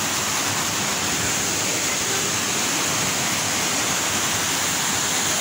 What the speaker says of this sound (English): The waterfall has its source at the top of the mountain and it comes down in seven different levels